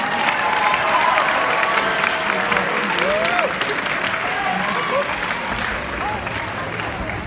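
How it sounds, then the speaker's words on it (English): An audience at a high school awards show applauds Grammy winners, sustained clapping from a large crowd filling the room, with faint voices mixed in. "one more round of applause for all of our Grammy winners."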